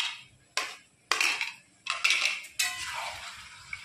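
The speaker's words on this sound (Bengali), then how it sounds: "দিয়ে একটু নেড়ে চেড়ে নেব" A spoon stirs ginger and garlic paste in a pan for a chicken dish, making several distinct scraping and clinking strokes in quick succession, close and fairly loud, with no talking.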